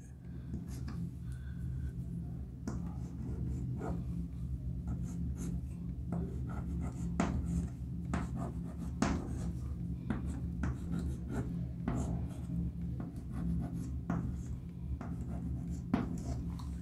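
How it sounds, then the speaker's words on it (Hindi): A chemical formula is written on a board: continuous scratchy, tapping strokes of chalk or marker at close range over a steady low hum, with no talking. "हम इसको आगे लिखते हैं"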